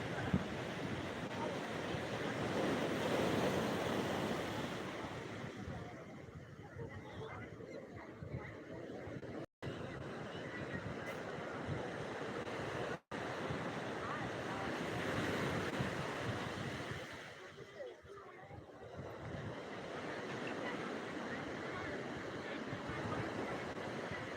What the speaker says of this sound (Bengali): দীঘা সমুদ্র একেবারে উত্তাল রয়েছে